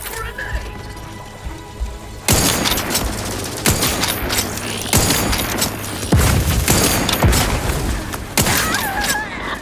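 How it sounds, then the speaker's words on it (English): A grenade blast in an Xbox shooter lands as a sudden loud boom, followed by a chaotic run of gunfire bursts and impacts, with game voice callouts heard around the action. "Grenade!"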